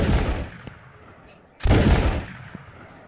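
Loud video-game war gunfire: a dense burst of shots and blasts opening the clip, then a second heavy volley after a brief lull, with faint voices in the background.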